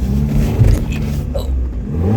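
A Mazda Miata's engine revving while its worn clutch slips, a steady low rumble and drone that holds without climbing, with people talking quietly over it.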